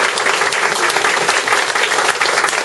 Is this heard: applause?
yes